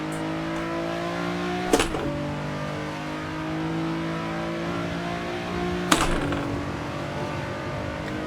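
Nissan 370Z Nismo engine in Assetto Corsa holds a steady high rev with clear harmonic drone, broken by two quick gear shifts marked by sharp clicks and a brief dip in pitch, loud and close with no talking.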